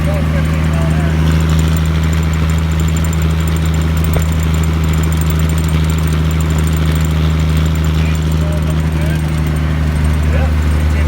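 An M756A2 pipeline truck's engine runs at a steady, loud idle with a deep, rumbling, slightly knocking tone that holds constant throughout, close and unbroken.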